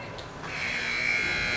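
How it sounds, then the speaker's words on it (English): A final buzzer sounds at the end of a youth ice hockey game in an Eden Prairie arena between the '09 Gladiators and the Thunder Bay Freeze, a steady electronic tone that swells in and holds over the noise of the crowd. "And there's your final buzzer."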